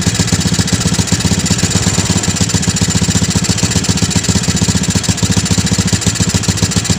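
A three-wheeler's small engine is revved gently and held steady at a fast, even throb, loud and close throughout with no voices over it.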